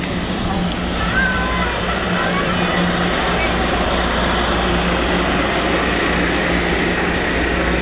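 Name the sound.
train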